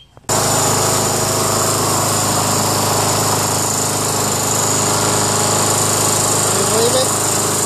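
Yardman by MTD 6.75HP self-propelled lawn mower engine starting abruptly and then running at a loud, steady, buzzing drone close by, with no talk over it.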